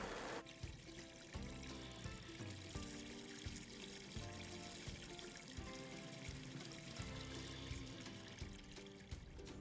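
Water pours steadily into a container for farm ducks, a continuous splashing flow that shifts in tone as it fills, with no talk over it.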